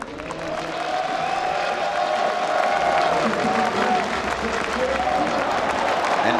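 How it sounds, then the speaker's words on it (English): Crowd applause and cheering fill the space steadily at a StarCraft II esports tournament, IEM Katowice, a broad wash of clapping with some voices mixed in. "give a round of applause for Yoda."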